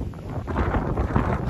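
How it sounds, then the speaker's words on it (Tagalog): Strong wind at Abraham Lake buffeting the microphone in low rumbling gusts, rough and close, for a brief moment. "At malakas ho ang hangin eh."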